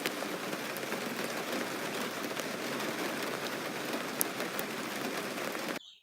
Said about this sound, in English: it's actually raining outside